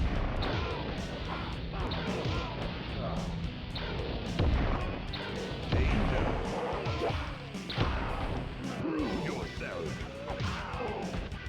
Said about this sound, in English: let me give him the 3D missiles a few times here